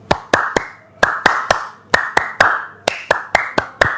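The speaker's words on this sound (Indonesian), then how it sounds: "Ini setan lagi tepuk tangan bu" Bursts of hand clapping, sharp close claps in uneven quick groups of two or three with short pauses between, loud and alone.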